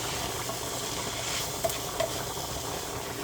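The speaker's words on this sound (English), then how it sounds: "that cabbage is frying up pretty good" Cabbage frying in a pan, a steady soft sizzle and crackle throughout, with a couple of brief clinks of a utensil near the middle.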